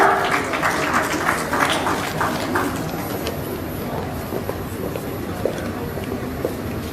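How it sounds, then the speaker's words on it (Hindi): An official appointment-letter ceremony audience breaks into loud applause, a thick wash of clapping that peaks early and then thins into lighter, scattered claps with background murmur. "तो एक बार जोरदार तालियां।"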